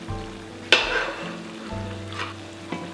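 Sauerkraut with dill sizzles in a pot while being stirred, a steady hiss broken by a sharp clank of a utensil and a few scraping strokes, close by, with no talking and a low background hum.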